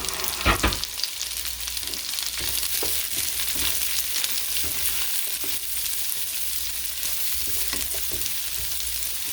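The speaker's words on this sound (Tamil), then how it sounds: "ஆனியன் நல்லா டீப் ஃப்ரை ஆகிற வரைக்கும் நல்லா ஃப்ரை பண்ணிக்கோங்க" Large-cut onions deep-frying in oil in a pan for mushroom soup, a continuous loud sizzle with intermittent stirring scrapes and clatters, close up, no talking.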